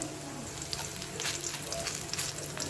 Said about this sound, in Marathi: या रेसिपीमध्ये सगळ्यात जास्त वेळ कांदा परतण्यासाठीच लागतो।